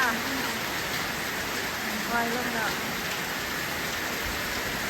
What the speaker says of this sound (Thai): ได้ฝนสาดได้มีกำลัง